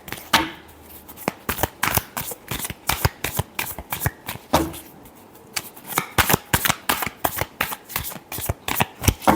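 Tarot cards being shuffled in the hands, loud and close: repeated sharp riffling bursts and flutters in quick, uneven succession, with a pause partway through before the shuffling resumes.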